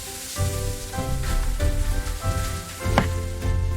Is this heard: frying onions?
yes